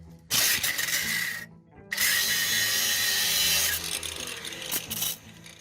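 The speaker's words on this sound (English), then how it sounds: "Put your cutoff disc in there and just cut the bolt off" A small angle grinder with a cutoff disc cuts through a bolt on an RV shackle, a loud, close, steady high-pitched whine that stops briefly and then resumes for several seconds.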